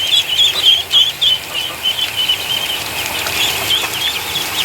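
Ducklings, hatched from eggs, splash and play in water, giving a steady wash of high peeps and wing flapping at close range with no talk.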